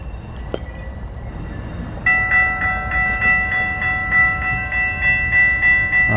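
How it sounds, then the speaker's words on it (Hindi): A US passenger train pulls into a station at night, a low rumble joined by sustained tonal horn or whistle notes that swell in repeated waves, loud and near. "ट्रेन तो आ रही है।"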